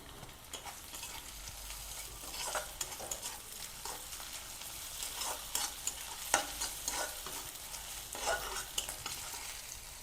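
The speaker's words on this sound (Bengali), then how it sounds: "আদাটা দিয়ে আরও একটু পেঁয়াজের সঙ্গে ভেজে নেব।" Sliced onion and crushed ginger frying together in oil in a pan, a soft continuous sizzle broken by repeated scraping stirs of a spatula, fairly quiet and close.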